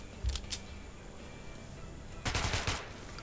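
Heavy-recoil gunfire in Metro 2033 Redux, two quick short bursts near the start, then a denser sustained burst of rapid shots later, loud and close with no talking.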